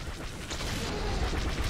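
TIE bomber bombing run in the Star Wars Battlefront 2 video game: dense, continuous rumbling blasts and gunfire-like bursts, loud and close, with no pause.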